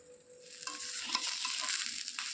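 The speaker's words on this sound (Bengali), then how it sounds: "আর চালটা আমার অনেকটাই ভাজা হয়ে গেছে, আর আমি এর মধ্যে এখন আদা বাটাটা দিয়ে দেবো।" Rice sizzles and fries in a pan as ginger paste is stirred in, a soft continuous crackle with scraping stir sounds, close and fairly quiet.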